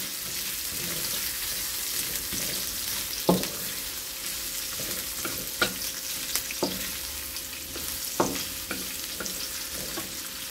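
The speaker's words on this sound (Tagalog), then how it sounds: "Tapos sibuyas. Igisa lang po natin." Onions sauté in a hot pan with a continuous sizzle, while a utensil stirs and taps against the pan in scattered clinks and scrapes.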